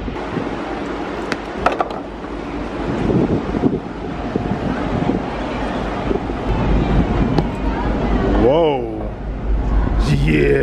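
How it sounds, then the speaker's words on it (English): Strong wind on a cruise ship deck buffets the microphone with a steady roaring rumble, while voices talk faintly under the gusts. "it's really windy out here"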